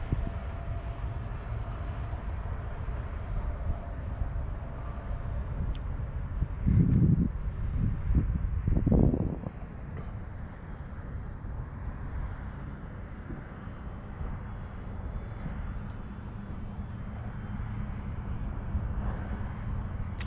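A Zohd Dart 250 RC plane on its stock motor, powered by a 2S 3400 mAh LiPo, drones steadily in flight with a thin high whine and a brief swell in the middle.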